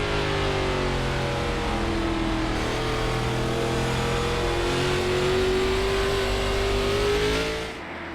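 Stock race cars at Thompson Speedway roar continuously at close range, engine pitch rising and sliding as they race past, the loud sustained drone easing off only at the very end.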